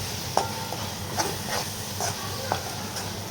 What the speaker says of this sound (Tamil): இப்போ நம்ம இதை ஒரு முறை கலந்து விட்டுக்கலாம் எண்ணெயிலே நல்லா வதங்கட்டும்